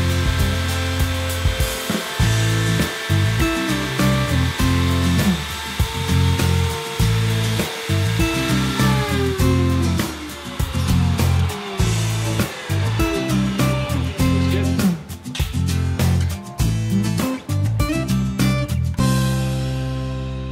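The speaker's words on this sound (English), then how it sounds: "finally trim off any excess material using the router" A woodworking router trims excess material flush along a laser-cut template, its loud, high-pitched whine holding steady with repeated dips and bites as the bit cuts, close and continuous with no talking.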